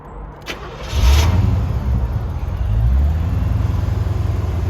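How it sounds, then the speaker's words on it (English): A 1987 Corvette convertible engine cranks briefly and catches, then settles into a steady, deep exhaust rumble that continues loud and close. "let's start it up right now"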